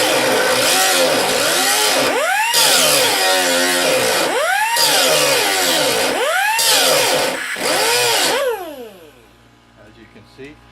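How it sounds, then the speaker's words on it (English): A small cutoff tool fitted with a wide cutoff wheel grinds at a spot weld. Its loud, close whine rises and falls in repeated surges, then winds down and fades near the end. "One is just a small cutoff tool with the wider cutoff wheel, and it's basically used as a grinder."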